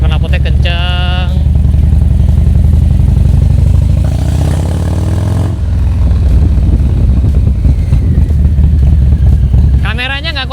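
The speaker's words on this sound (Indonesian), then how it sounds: "Suaranya udah berantakan banget. Dentumannya karena udah stage 2 ya kan. Suara knalpotnya kenceng." A Harley-Davidson Street Bob with a stage 2 upgrade and loud aftermarket exhaust rumbles close by, its deep idle swelling into a throaty rev midway before settling back to a heavy, uneven thump.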